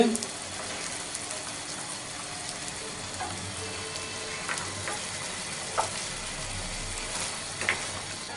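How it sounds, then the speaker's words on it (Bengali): Green peas are stirred into simmering, oil-free beef curry in a pot. A soft, continuous sizzle and bubbling runs beneath scattered scraping clicks from the spoon, and a faint voice may be audible in the background. "একটু নেড়ে মিশিয়ে দিচ্ছি মটরশুঁটিগুলো"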